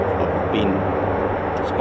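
A US Air Force MC-130J Commando II turboprop at RAF Mildenhall produces a steady, dense engine roar that stays constant and fairly loud throughout.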